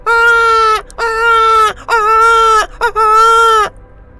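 A person's voice imitates the cry of a newborn baby girl with four loud, drawn-out wailing cries, each separated by a brief gap and heard up close.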